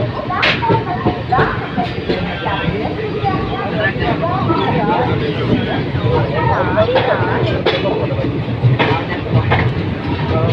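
A moving passenger train on the Rapti Sagar route near Kazipet Junction gives a steady rumble with faint rhythmic clacks, heard from inside over continuous background chatter.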